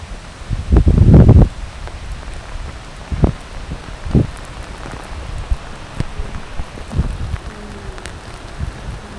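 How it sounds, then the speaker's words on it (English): Rain falls in the open in Heidelberg with soft, patchy pattering, punctuated by a few louder nearby rustles and bumps, and no voices. "it starts raining again, especially when you're just in the open"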